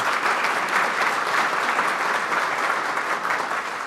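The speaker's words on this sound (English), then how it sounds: "Let's give them all a big round of applause." A hall full of Rotary Club members gives a warm round of applause, dense, even clapping that stays loud and steady throughout with no voices over it.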